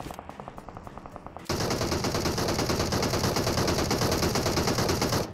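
Video game gunfire: a rapid string of close automatic shots, first lighter and clipped, then a sustained, loud, rattling burst that runs steadily until it stops.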